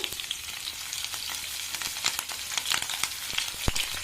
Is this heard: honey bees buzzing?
no